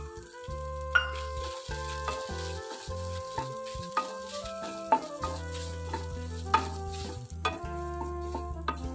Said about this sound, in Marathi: आता आपण ह्याच्यामध्ये घालून हे परतून घेणार आहोत